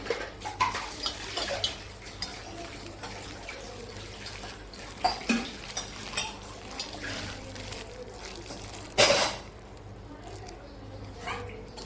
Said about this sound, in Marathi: हाताने मिक्स करून घेते.